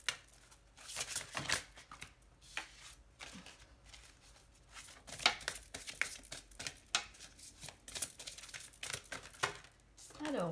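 Large oracle cards shuffled by hand, irregular papery riffles and slides with crinkly bursts, close and fairly quiet, with brief pauses between handfuls.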